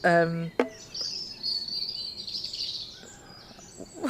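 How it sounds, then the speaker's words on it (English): Birds sing in the Suffolk countryside at dusk, with clear high chirps and a sustained thin trilling song near and mid-distance, after a brief opening tone, in a quiet outdoor setting with no speech. "wow, there's so many birds"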